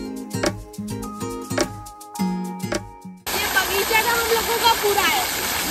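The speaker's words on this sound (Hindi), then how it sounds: "पानी बहुत ठंडा ठंडा आ रहा है, एकदम वाटरफॉल वाला एकदम मज़ा" Cold water pours down during bathing in a broad, steady rush like a waterfall. It begins about halfway through, after a stretch of tuneful music, and stays loud and close.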